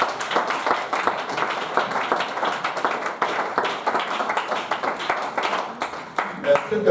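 A church congregation claps together to acclaim the Lord in a steady, lively rhythm that fills the room, with many voices talking and calling out over the clapping.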